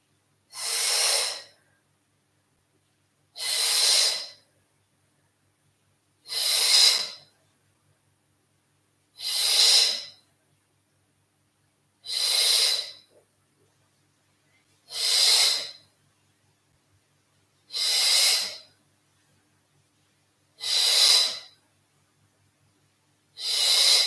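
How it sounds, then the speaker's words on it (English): Strong rhythmic exhalations from active yoga breathing during a squat, nine sharp, even bursts of breath spaced about every three seconds against near silence. "You can play with a nice active breath pattern."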